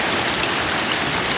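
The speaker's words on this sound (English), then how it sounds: "This is water running off from some farm irrigation." Irrigation runoff from a farm pours and splashes nearby, a loud, steady rushing hiss of falling water with no pause or voices.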